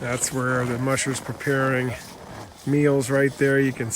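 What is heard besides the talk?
None of the usual background noises is heard.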